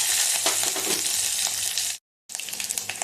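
Loud, steady sizzling of cumin seeds, green chilies and a dried red chili frying in hot oil, crackling densely throughout, broken by a brief moment of silence before resuming.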